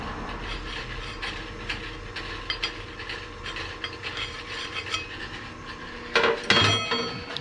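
A hand reamer grinds inside a frozen Cub Cadet ZForce bell housing, close repeated metallic scraping and ratcheting turns at a steady pace, with a louder clunk of metal handling near the end.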